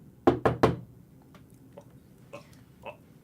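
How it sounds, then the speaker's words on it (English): Three sharp, loud knocks on a door in quick succession, followed by faint shuffling and a few soft clicks in a quiet room. "you all hear a knock at the door."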